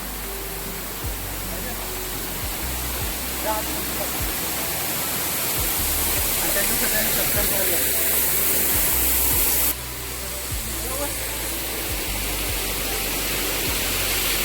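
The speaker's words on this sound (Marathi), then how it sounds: "इकड़े पण एक छोटासा धबधबा आहे" A small waterfall near Rudreshwar temple, above dense forest, makes a loud, close, continuous rush of falling water that holds steady throughout.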